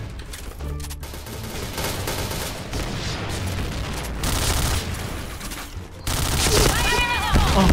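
Shotgun blasts and other gunfire in the Point Blank online shooter come in dense, loud bursts of overlapping shots, while a player talks excitedly over the action.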